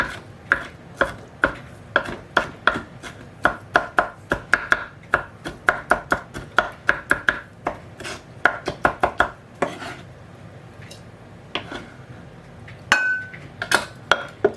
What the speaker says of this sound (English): I'm just going to run a knife through this.